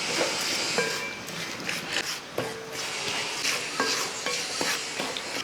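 Ginger curry with asafoetida and spice powders stirred in a pan, a spatula scraping and knocking against the metal in irregular strokes over a continuous close sizzle.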